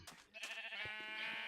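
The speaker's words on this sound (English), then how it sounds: "Hello, sheep." A Minecraft sheep gives a single short, quavering bleat, fairly quiet and close, with no talking around it.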